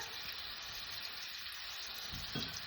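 Garlic paste hitting a hot pan over medium heat for beef stroganoff, a close, steady sizzle and fry with a brief scrape of stirring near the end.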